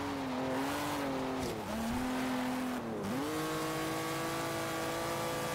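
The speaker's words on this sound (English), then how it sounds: "It has that 6-cylinder rumble to it, I think." A Plymouth Valiant engine in the racing game Forza Horizon 3 revs high and steadily, its pitch dipping briefly twice as it shifts, a loud continuous drone with no talk.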